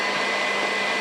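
Electric mixer beating cake batter, a steady, even whirring motor hum held without a break throughout.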